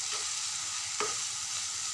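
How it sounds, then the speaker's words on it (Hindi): Vegetables fry in a pan with a steady soft sizzle while being stirred, one brief scraping stroke standing out midway; close and moderately quiet, no talk. "चलिए इसको थोड़ा सा फ्राई होने देते हैं, थोड़ा सा ढक के"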